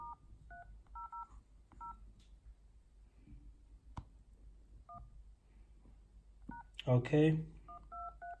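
An iPhone keypad plays dialing tones as a code is entered: a quick run of short, clean beeps in small bursts, with a voice briefly speaking near the end.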